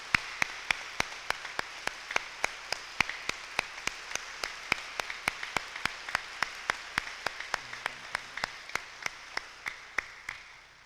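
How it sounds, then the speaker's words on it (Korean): Church congregation clapping in 1999 to welcome a visiting guest, heard as evenly spaced, crisp claps in a steady unison rhythm, fairly faint and distant, with no talking over it. "우리 다 박수로 한번 박수해 주시면"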